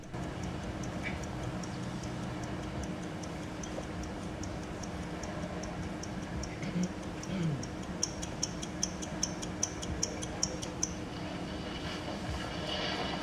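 A clock ticks in a steady, faint rhythm, compiled from many different film scenes, over a low rumbling background, with the ticks growing clearer and crisper toward the end.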